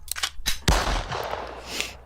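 A single sharp gunshot sound effect cracks out loud and close, followed by a long noisy decay that trails off over about a second and a half.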